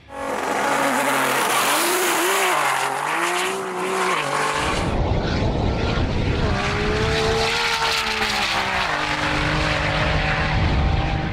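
A Nissan GT-R R35 drag car makes a full-throttle pass, its engine screaming and climbing through several gear changes, loud and close with no talk.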